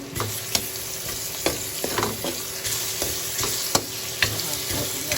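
Century Tuna hot and spicy with mushrooms fries in a pan with a continuous sizzle, broken by regular scraping stirs of a utensil. The sound is close, and no one speaks.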